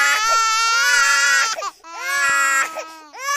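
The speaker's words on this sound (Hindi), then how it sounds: "सबसे पहले है बच्चे की रोने की आवाज।" An infant cries loudly and close in long wailing bursts, with short breaths between the cries.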